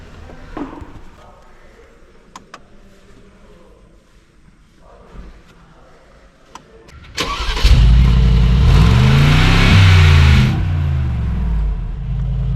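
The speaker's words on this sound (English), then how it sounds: "Now let's step inside and start the G63." 2023 Mercedes-AMG G63 V8 fires up after some quiet cabin clicks, catching with a sudden loud roar and rev, then settling into a strong, steady idle, heard up close.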